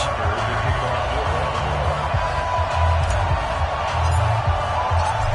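Stadium crowd noise from an NFL football video game ahead of a Baltimore Ravens versus Oakland Raiders matchup, a steady dense roar of many voices that holds loud and even throughout.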